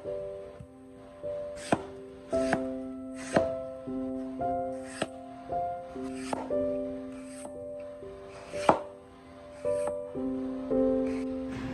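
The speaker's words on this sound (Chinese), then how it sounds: "也是同样的方法将它摆放整齐，也同样均匀的切成细丝" Knife cutting white radish into thin strips on a board, a steady series of crisp, evenly spaced chops close up, with soft background music underneath.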